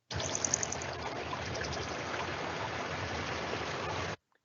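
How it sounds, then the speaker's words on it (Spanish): Strange, transformed water sounds form a continuous rushing, streaming wash with faint glinting high tones, steady throughout before stopping abruptly. "unos sonidos un tanto extraños que en realidad son transformaciones de sonidos de agua"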